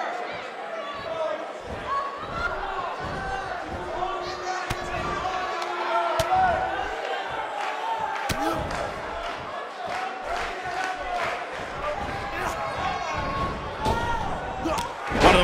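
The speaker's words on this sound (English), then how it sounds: "would you listen to the buzz of this Tucson crowd?" Arena crowd buzz at a wrestling match in Tucson in WWE 2K18, a constant roar of cheering with slams and thuds on top and a commentator talking throughout.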